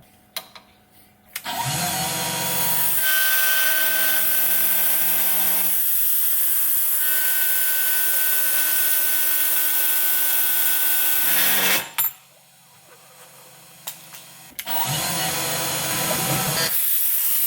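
Milling machine cutting metal with a large end mill, the workpiece held in a cheap low-profile vise; a loud, steady grinding whine with shifting tones runs throughout, broken by a brief drop around the twelfth second before cutting resumes.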